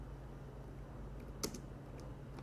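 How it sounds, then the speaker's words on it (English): Keystrokes on a computer keyboard, faint and fairly sparse, with one sharper tap standing out over a steady low background hum. "what I'm typing here?"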